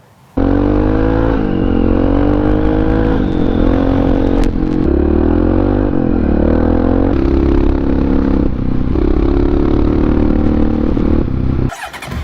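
A Honda XR650R motorcycle engine runs loud and close, a steady thumping single-cylinder drone with slight rises and dips in pitch throughout, cutting off abruptly at the end.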